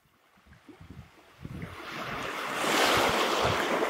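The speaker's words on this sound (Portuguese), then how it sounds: "A água do mar atinge a faixa de areia suavemente, formando uma espuma branca." Sea waves wash gently onto a sandy beach and break into white foam, the surf starting soft and swelling into a steady, loud wash with some wind, no voices.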